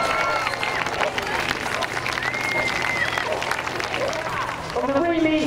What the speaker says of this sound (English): Let's give him a big round of applause, then, ladies and gentlemen.